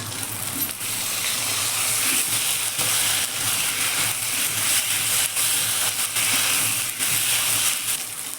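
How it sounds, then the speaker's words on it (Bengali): Ground coriander, chilli paste and ginger-garlic paste fry in a pan for egg curry, a continuous hissing sizzle with faint scraping and clinks throughout. "ধন্যার গুঁড়ো লঙ্কা বাটা আদা রসুন বাটা দিয়ে মশলাটা ভালো করে কষিয়ে নেব"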